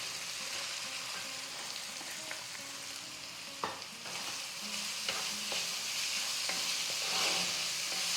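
Onion, green chilli, ginger and garlic paste frying in a pan for soya cutlets, a quiet continuous sizzle broken by a few stirring knocks and scrapes.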